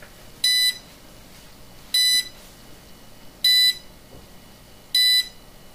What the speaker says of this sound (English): the double beep, that means the brake is off